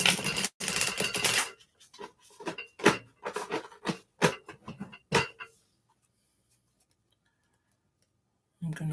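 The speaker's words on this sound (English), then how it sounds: "All right, shuffle time." A tarot deck is shuffled and cut by hand: quick bursts of papery card clicks and slaps in uneven runs for several seconds, then silence.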